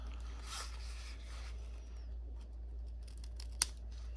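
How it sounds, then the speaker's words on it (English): Sewing scissors trim the corners of fabric for a sling, giving a few faint, quick snips against a quiet room hum, with one sharp cut near the end. "So I'm just gonna trim off here my corners."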